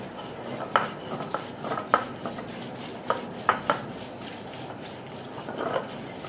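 Dried chapa shutki fish paste is ground on a stone slab (pata), giving repeated rough rubbing strokes with sharp knocks as the grinding stone strikes, close and fairly loud, with no talking.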